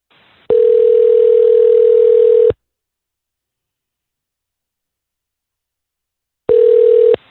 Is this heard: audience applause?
no